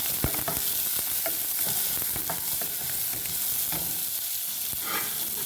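Chopped onions and spinach frying in a pan with a dense, steady sizzle, punctuated by frequent light scrapes and taps of a stirring spoon against the pan, close and fairly loud.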